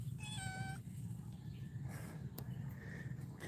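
A cat gives a short, high meow early on, faint against a steady low rumble of background noise, on a beach in Bohol, Philippines, in the morning.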